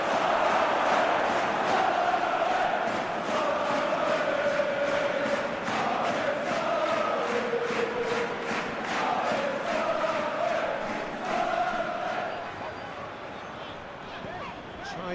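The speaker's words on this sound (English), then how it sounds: "the crowd clearly like what they just saw" A stadium crowd in a football video game cheers steadily and loudly with rhythmic chanting and roars throughout, and a commentator talks over it.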